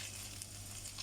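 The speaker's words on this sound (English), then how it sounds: "we're going to let this fry" Cumin (jeera) and chili powder frying in hot oil for homemade dhal roti, a steady close sizzle lasting about a second with no talk.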